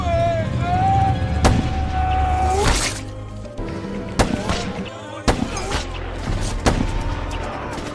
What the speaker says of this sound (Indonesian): Setelah baku tembak yang lumayan sengit, Brandon dan Martin berhasil mengalahkan pem